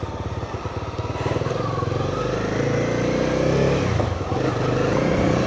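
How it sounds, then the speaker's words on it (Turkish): Motorcycles passing on a road, a loud close engine drone with rising revs and a steady rough throb that swells and holds throughout, with traffic rumble underneath. "Her yerde motor var ya."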